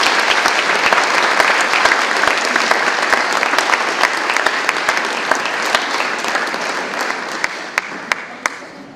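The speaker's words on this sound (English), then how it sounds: "How about a big round of applause?" A crowd at a panel discussion gives a big round of applause, dense, steady clapping that carries on for several seconds before gradually thinning out to a few last scattered claps.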